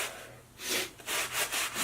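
Brisk scrubbing of a sneaker with a brush and Vicks cleaner, a few rough back-and-forth strokes rasping close to the microphone after a brief quiet start.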